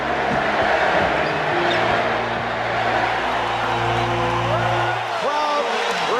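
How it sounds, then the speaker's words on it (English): Basketball arena crowd in Portland cheering loudly in a standing ovation for Larry Bird's entrance with the first Dream Team, a broad continuous roar with whoops, and a narrator speaking over it. "Crowd reacts to the entrance of Larry Bird, a standing ovation"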